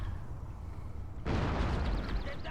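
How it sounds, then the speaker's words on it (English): Cannon fire with shrapnel shot in the strategy game Total War: Shogun 2 (Fall of the Samurai), aimed at troops on a wall: a sudden loud burst of blasts that stays dense and rumbling after a quieter lead-in. "Let's see what the shrapnel shot does while the guys are on the wall."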